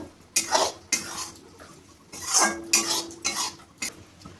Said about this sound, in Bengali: আমি 2 চামচ ঘি দেওয়ার পর আবার ভালোভাবে নাড়িয়ে নেব।